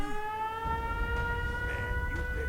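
An air raid siren in the video game Fallout 4 wails steadily, a sustained tonal drone with layered harmonics over low rumbling, holding level throughout.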